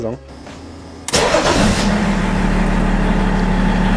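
The engine of a BMW E46 with its stock exhaust cranks and catches with a sharp burst, then settles into a steady, close idle rumble. Someone speaks briefly before it starts.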